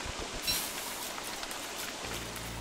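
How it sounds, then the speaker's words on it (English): Steady rain falls in the video game Don't Starve Together, a dense, even hiss of drops on the ground that runs throughout at moderate level, with a low rumbling hum joining near the end. "I love how it's raining."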